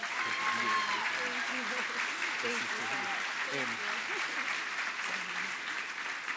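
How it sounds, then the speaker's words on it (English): Steady audience applause at a community gala honoring Jessica fills the room, dense and sustained throughout with a few voices calling out underneath. "another round of applause for Jessica, please"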